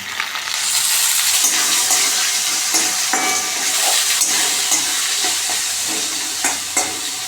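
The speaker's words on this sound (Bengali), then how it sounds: "আলুটা ভাজা ভাজা হয়ে গেছে এবার দেখুন আমরা গাজর দিয়ে দিচ্ছি" Carrots go into a wok of frying potatoes, giving a loud, continuous sizzle with scraping stirs and small crackling pops throughout.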